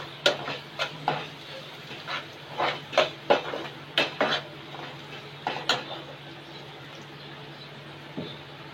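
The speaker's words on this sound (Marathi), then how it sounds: "परत एकदा मिक्स करून घेऊयात।" A spoon stirring and scraping in a pan of Kokani-style egg curry after turmeric is added, giving a string of distinct metallic clinks and taps in an uneven rhythm, with a low steady hum beneath and a final knock after a pause.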